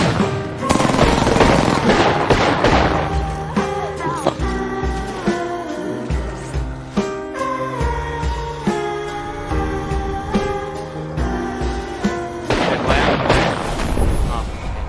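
Gunfire in Apex Legends, with the Mozambique shotgun among the weapons: loud, sharp bursts of shots and rapid automatic fire in dense clusters, mixed with game music, carrying on through most of the stretch.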